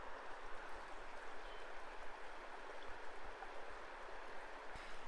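The Pigeon River rushing through a state park on the Minnesota–Canada border, a steady broad wash of flowing water with no voices.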